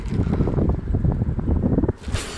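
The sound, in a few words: wind on a pond while fishing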